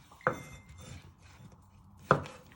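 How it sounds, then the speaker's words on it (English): A knife chops through mushrooms on a cutting board, making two sharp, distinct chops about two seconds apart, close and clear with no talking. "So you first chop them in half and just finally slice them into 4 medium pieces."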